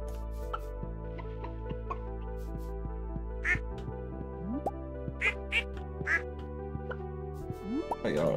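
Ducks quack repeatedly in the Stardew Valley farm game, short sharp calls scattered over steady game music, with ticking effects mixed in throughout.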